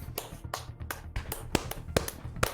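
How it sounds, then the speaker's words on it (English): A few sharp hand claps spaced irregularly, close and fairly quiet, over a low background hum. "Yeah, I'll clap as well."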